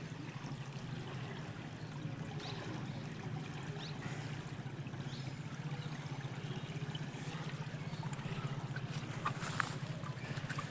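The Neeli stream at Parappur, Kottakkal runs with a strong current, producing a faint, steady rush and trickle of water that continues unbroken, with no voices.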